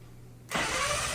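An older car engine cranks and catches abruptly after a brief quiet moment, then settles into a loud, steady running roar nearby.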